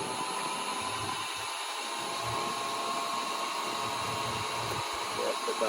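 A woodturning lathe spins a Christmas bauble and picks up speed, a steady close whine and hum with a high tonal edge that holds throughout and builds slightly toward the end.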